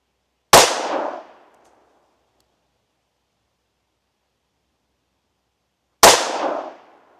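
Two sharp, loud 10mm pistol shots fired with stout Grizzly 180-grain loads crack about five seconds apart, each with a short decaying echo, separated by silence.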